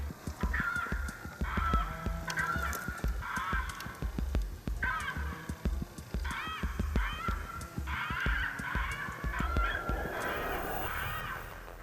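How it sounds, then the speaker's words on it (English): An electronic predator call, a GC500 ICOtec, plays chicken sounds out in the field during a coyote hunt, repeated raucous squawks and clucks in bursts over a background of scattered clicks and rustles. "then we switch over to some chicken sounds on the GC500 ICOtec"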